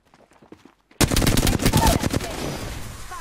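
Automatic gunfire from a shooter in the battle royale game Apex Legends erupts suddenly after quiet background voices, a loud sustained burst of rapid shots that tapers slightly toward the end.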